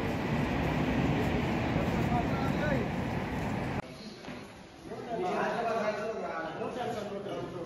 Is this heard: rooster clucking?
no